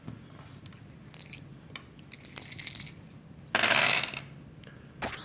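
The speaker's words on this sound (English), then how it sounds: "So I'll roll 4 dice." Four dice for an Advanced Squad Leader board game rattle and clatter onto a surface in a few bursts, with one louder tumbling spell near the end, close up and without talk.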